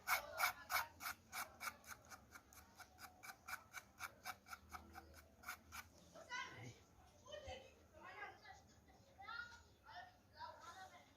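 A rough corer scrapes out the inside of a zucchini, making a rapid run of rhythmic rasping strokes followed by slower scrapes, faint and close, with someone talking throughout.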